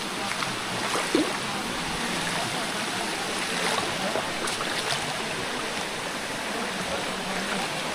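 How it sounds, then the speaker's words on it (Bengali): A small waterfall near a path in Ghatshila, Jharkhand, gives off a steady broadband rush of flowing water, close and continuous, with faint movement and brief splashes over it. "তো আমরা লিটিল বিট ঝর্নার কাছে এসেছি।"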